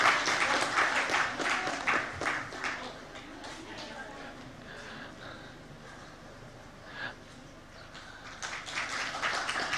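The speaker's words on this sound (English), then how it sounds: "Please, a round of applause for our keynote speaker, Dr. Bai King Ju." Audience applause at the opening ceremony of the Sagarmatha Sambaad 2025 dialogue welcomes a keynote speaker. Broadband clapping is loudest at the start, then eases to a lighter, patchy patter that swells again near the end.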